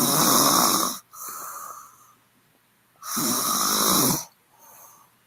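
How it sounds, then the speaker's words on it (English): A woman snores in two loud, rasping breaths separated by a quieter exhale, with the pattern repeating about three seconds later; no other voices. "Woman snore."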